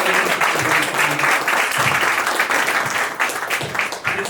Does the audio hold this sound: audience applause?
yes